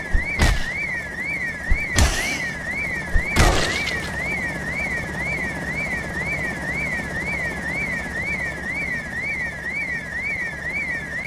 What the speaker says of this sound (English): This helicopter's trying to get me killed.